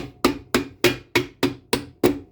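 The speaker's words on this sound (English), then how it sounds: "we're just gonna take our hammer and tap it in" Eight sharp metallic hammer taps at a steady rhythm, tapping a swingarm part into place on a Yamaha YZ250 motorcycle, close and fairly loud, with no voices.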